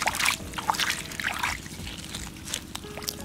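A freshly dug mud crab from a mangrove is rinsed with water, giving a steady close trickle and slosh with soft splashes throughout. A faint hum sits underneath.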